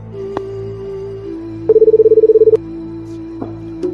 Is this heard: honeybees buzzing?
no